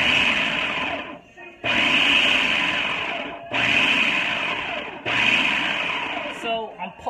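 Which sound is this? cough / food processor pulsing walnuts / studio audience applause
food processor pulsing walnuts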